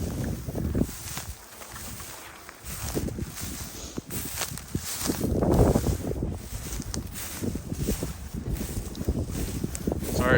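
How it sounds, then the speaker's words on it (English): Strong wind buffets the microphone outdoors on a farm, gusty rumbling and rustling rising and falling throughout while a person talks. "Sorry if it's a little windy. They're calling for some pretty good winds today."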